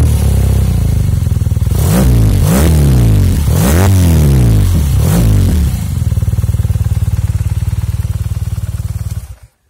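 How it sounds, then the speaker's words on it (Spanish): A 2021 BMW R nineT Pure motorcycle with an Akrapovic twin-tail exhaust revs hard several times in quick succession, loud and close, then settles into a steady idle before cutting off. "Fijaros el escape."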